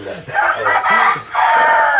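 Loud, close calls from a rooster, drawn out and harsh, filling the whole short moment.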